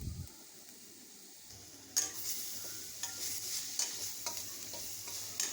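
Grated carrots and green chili paste fry in a pan, a quiet sizzle that swells into louder crackling as a spoon stirs and scrapes through the mixture, close and without talking.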